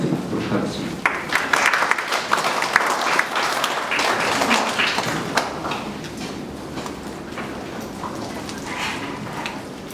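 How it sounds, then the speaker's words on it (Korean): An audience at a dance symposium applauds to welcome a presenter, a dense burst of clapping that peaks early and slowly thins out, with a voice briefly audible. "여러분의 큰 박수로 발제하도록 하겠습니다."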